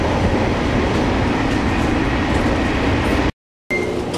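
Inside the Sonic limited express train while riding, a loud constant rumble of wheels and carriage runs throughout and cuts out briefly near the end before resuming, with no speech.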